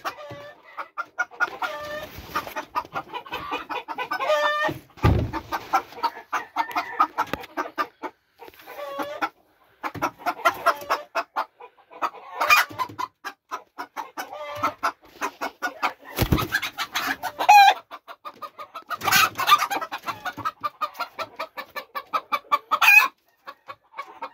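Broody game hens cluck and growl on a farm, in scattered bursts close by, with occasional sharper squawks and knocks in a fairly quiet setting.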